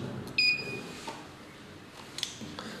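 A Signal Fire AI-6 fiber fusion splicer gives one short, sharp electronic beep as it is switched on, followed by faint handling clicks in a quiet room.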